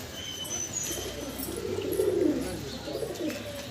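Pigeons kept as high-flying birds coo softly nearby, a low rolling call swelling in the middle, over faint background noise.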